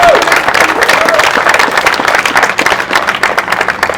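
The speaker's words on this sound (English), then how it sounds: "Let's give him a round of applause." Rally crowd applauding an introduced speaker at a Black Lives Matter gathering in Albuquerque, a dense steady wash of clapping with some cheering mixed in, loud and sustained throughout.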